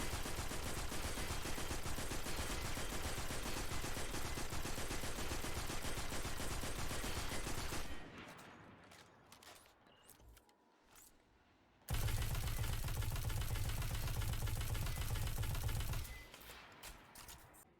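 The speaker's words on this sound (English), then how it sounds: "Compare that to the sounds of two other 450 RPM auto rifles, Braytech Werewolf and The Number." Rapid automatic gunfire from 450 RPM auto rifles in Destiny, the Braytech Werewolf and The Number, in two loud sustained bursts of steady rhythmic shots separated by a few seconds of quieter tail and ambience.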